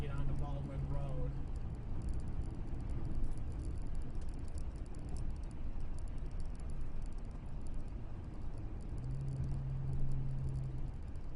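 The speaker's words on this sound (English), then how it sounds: "the sound that the pavement on these lanes make when you drive north on I-75" Car tires drone over the northbound I-75 pavement, a steady broadband road roar that holds for the whole stretch while someone talks over it.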